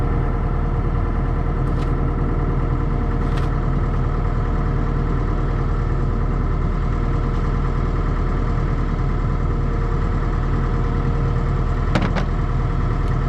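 A pickup truck's engine idles and runs steadily as it turns around, a loud continuous low drone with a few faint clicks and knocks on top and no speech.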